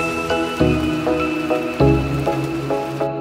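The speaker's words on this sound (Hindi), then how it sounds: "बाहर देखो आप बारिश लगना शुरू हो गई है भाई" Rain falls in a mountain village with a steady close patter. Heavier drips land on a hard surface in an uneven rhythm, and a faint tonal hum runs underneath.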